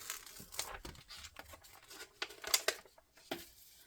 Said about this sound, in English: So we're going to take our Scor tape off of here first.